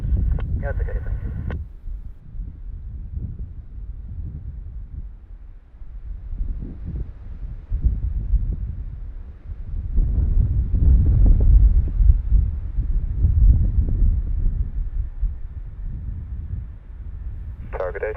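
Strong gusting wind roars and buffets across the microphone at Bristol airport during a storm, rising and falling in loud low rumbling surges over the whole stretch, with brief radio chatter at the start and end.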